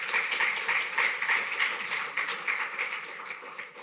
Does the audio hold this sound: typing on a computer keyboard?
no